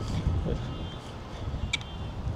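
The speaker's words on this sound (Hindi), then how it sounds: "इस टाइम हवा काफ़ी तेज़ है" Strong wind roars and buffets a microphone in low, rumbling gusts throughout at Zaitunay Bay in Beirut, Lebanon, with a brief faint click near the end.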